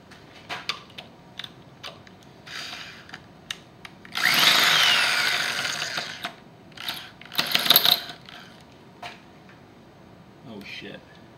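A power drill whines in two bursts, one long and one shorter, as it drills out a broken exhaust manifold bolt through a drill guide, amid clicks and clatter of tools, with someone talking nearby.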